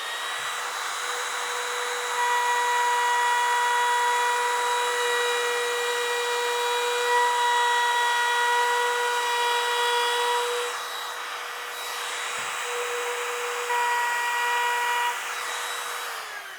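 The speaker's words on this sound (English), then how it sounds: "I'm just going to put a little chamfer on the top edge of this." A power tool chamfers the top edge of 2-inch wood stock, a loud steady high-pitched whine starting after a second, dipping briefly near the twelve-second mark, then resuming before tapering.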